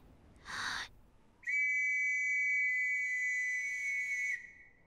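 A short breathy burst, then a single long, steady, high-pitched whistle blast held for about three seconds, clear and close.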